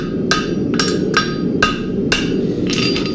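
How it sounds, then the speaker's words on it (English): Hammer tapering a steel horseshoe bar, toe of the hammer striking hot steel in about six sharp, ringing blows at a steady pace, close and loud with a bright metallic ring. "I just taper it down with the toe of my hammer there"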